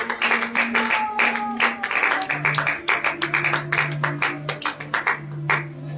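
A church congregation applauding for the Lord claps in a steady, lively rhythm for several seconds over sustained singing or organ-like tones, with many hands sounding together in a large room.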